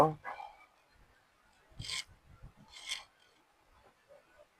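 Chalk rubs across salwar fabric to mark the waistline for elastic in two quick scratchy strokes, following a brief bit of talk, heard close and otherwise quiet.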